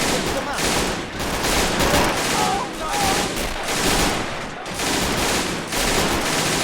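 Cannon and gunfire in the Men of War: Assault Squad 2 video game during a World War II defense, loud repeated bursts of rifle and machine-gun fire with booming shots in rapid irregular volleys, constant and close.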